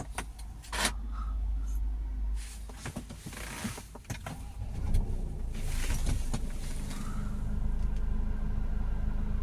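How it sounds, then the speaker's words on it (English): Diesel car with a DPF fault and engine management light, push-button started in a workshop: mechanical clicks and a short crank around the middle, then a steady low idle hum to the end. "Let's start it up."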